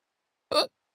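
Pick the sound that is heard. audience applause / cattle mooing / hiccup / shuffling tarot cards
hiccup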